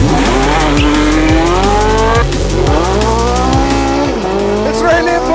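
A Porsche 918 hypercar launches hard, its engine screaming up through rapid gear changes with rising and falling pitch while the tires squeal, loud and close from inside the car.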